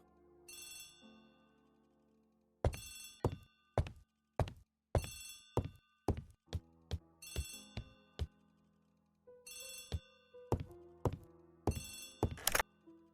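Telephone in an Agatha Christie ABC Murders game rings in repeated bright bursts, interleaved with sharp thunks and knocks, each ring sharp and close, with quiet gaps between, no speech.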